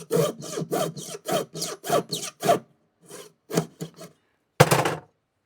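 A jeweler's saw or file flat-cuts one end of a ring's half shank at the bench, giving a run of short, rhythmic rasping strokes, then a pause, a few quicker strokes and one final stroke, close and fairly quiet.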